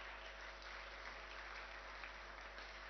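Audience applause at a Brahma Kumaris evening class with Dadi Janki, a steady dense wash of many hands clapping continuously throughout at moderate level, no voices standing out.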